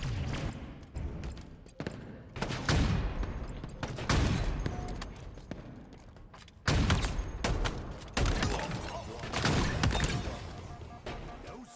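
Gunfire and sniper shots in Halo Infinite, loud sharp bursts coming in irregular clusters with short gaps between them, some single cracks and some rapid volleys, all close and with little talk audible.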